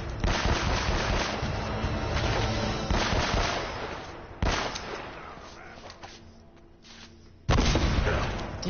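Sniper rifles crack through a firefight in Uncharted, with loud, dense gunfire and booming shots rolling continuously, a fresh sharp blast near the middle and another hard report toward the end.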